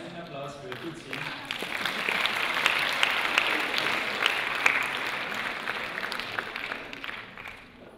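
A brief spoken introduction gives way to warm audience applause for a solo singer at a concert. The clapping swells and holds steady, then tapers slightly.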